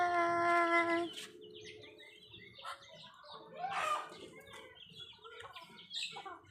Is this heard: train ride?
no